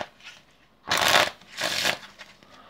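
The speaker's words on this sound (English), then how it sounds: "I'm going to give it one more good shuffle." A deck of playing cards is shuffled in two quick riffling bursts, close and crisp, with quiet handling between them.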